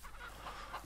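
Chickens cluck in the farming video game Ranch Simulator, a brief soft burst of clucking over a muffled background, with no talking.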